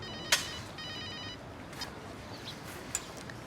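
A telephone bell rings once briefly and faintly in a quiet indoor room, a short trilling burst near the start followed by low background hum and a couple of small knocks.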